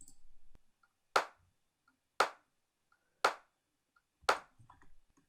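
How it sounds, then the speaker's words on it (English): Layered clap samples from a lo-fi house drum kit strike four times at an even, unhurried pace, each a crisp, bright, sharp hit with a short tail, standing alone against near silence. "Next thing on the list is the claps, and I'll show you."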